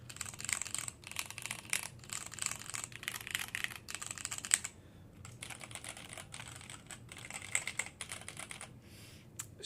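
Typing on a mechanical keyboard fitted with Cherry MX Black switches and thick keycaps, in a Unitek K151S or Cherry G80-1800 case: steady close-up clatter of keystrokes in bursts with brief pauses, no voices.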